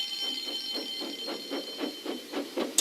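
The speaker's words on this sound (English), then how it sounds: "Soon came the alarm." A repeating alarm bell in a Thomas the Tank Engine railway story, sounding as a steady string of rapid rings about every quarter second, fairly loud and alone, with a bright ringing tone over the whole stretch.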